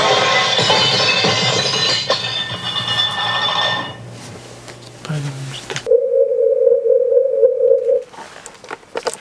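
Test tones from a loudness-scaling hearing test: a steady electronic tone sounds alone after a stretch of dense, noisy audio, holding for about two seconds before cutting off.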